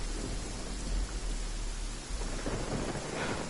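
Steady rain and deep thunder rumble in Genshin Impact, a constant wash of rainfall with low rolling booms swelling underneath, moderately loud with no voices.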